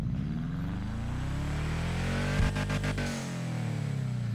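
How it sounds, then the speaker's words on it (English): A Toyota GT86 engine in a video game drones and revs, its pitch sweeping up and down, with a brief stuttering burst before it settles back to a low rumble. "I love that engine sound."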